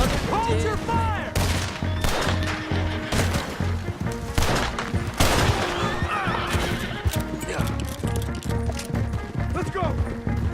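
Gunfire in Red Dead Redemption 2, with bursts of shots mixed into loud, dense game action alongside horse whinnies and hooves, and voices shouting throughout.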